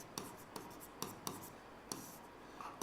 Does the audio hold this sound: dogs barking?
no